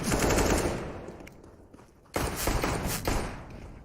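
Rapid bursts of Glock pistol fire during a Counter-Strike match on Dust2, loud and dense at first, easing off briefly, then a fresh volley of shots and thuds crowding back in.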